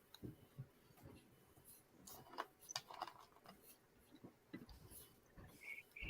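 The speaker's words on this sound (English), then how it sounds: "what you hear are the clicking of a keyboard typing names into a" Computer keyboard typing names, quiet irregular clicks and taps in short bursts, close and faint, with no speech over them.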